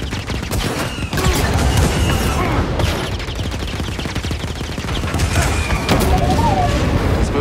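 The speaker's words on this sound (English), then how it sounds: "Those are the blasters." AT-AT blaster fire in the video game Jedi Fallen Order, a dense, continuous barrage of loud booming blasts and crackling impacts layered over rumbling battle noise throughout.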